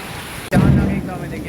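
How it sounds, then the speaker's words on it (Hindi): A sudden loud crack of thunder during a rainstorm, a sharp onset followed by a heavy rumbling roar that fades slightly over a second, with rain hissing underneath. "देख रहे हो बिजली कैसे कड़क रही है"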